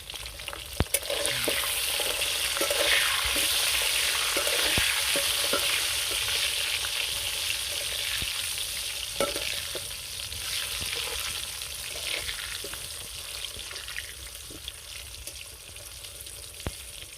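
Potatoes fry in a pan with salt and turmeric, giving a steady loud sizzle broken by repeated sharp scrapes and clacks of stirring, continuous throughout with no speech.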